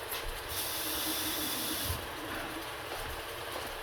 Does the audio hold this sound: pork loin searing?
yes